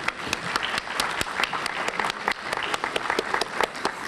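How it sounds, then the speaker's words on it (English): Applause for a pianist's prelude at a university faculty and staff seminar opening, with crisp, distinct individual claps ringing out over a steady crowd patter throughout, no voices heard. "Let's give a round of applause to Miss Julia Buckingham for the prelude"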